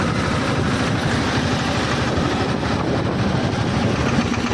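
A tractor engine chugs steadily and loudly nearby, a low rumbling drone with no break.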